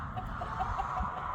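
An Araucana rooster clucks softly inside an isolation pen in a coop, with faint, low, repeated clucks over a steady background hum.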